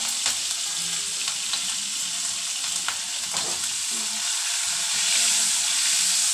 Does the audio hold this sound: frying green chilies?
yes